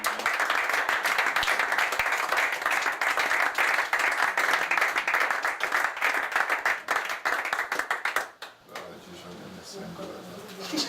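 A church congregation at an evening gathering bursts into loud sustained clapping and applause for about eight seconds before it drops away into a quieter murmur of the room.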